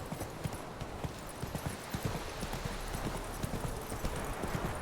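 A horse gallops in The Witcher 3: Wild Hunt, its hooves striking in a quick, steady clip-clop rhythm that continues throughout, fairly soft, with an occasional faint snort.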